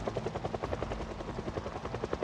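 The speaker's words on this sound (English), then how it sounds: "Okay, helicopter, go away." A helicopter flies overhead in the Project Zomboid video game, its rotor chopping in a steady, fast, loud rhythm that fills the whole stretch.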